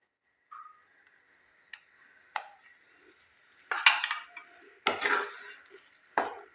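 A spoon scraping and clinking against a pan as ghee goes in for Assamese pitha, a few sparse metallic taps and scrapes at uneven intervals, close and fairly quiet.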